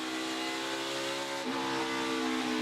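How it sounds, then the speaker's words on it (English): An onboard NASCAR Xfinity race car at Road America holds a loud, steady engine drone, and a quick throttle blip near the middle briefly shifts the pitch before the steady tone returns. "Little blip of the throttle through the kink."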